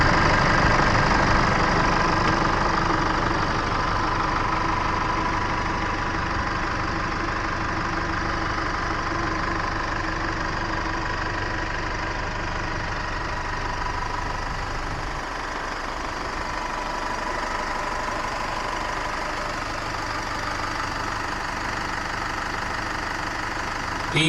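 The 2.8-liter Duramax diesel in a Chevrolet Trailblazer idles with a steady, close, clattering rumble that barely changes throughout.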